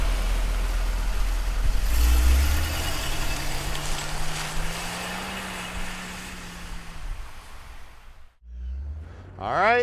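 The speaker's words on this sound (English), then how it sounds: "let's go for a ride in this beautiful Firebird convertible here, guys" A 1969 Pontiac Firebird convertible drives with a low rumbling engine that rises in pitch and then drops away, followed by a brief quiet before it picks up again.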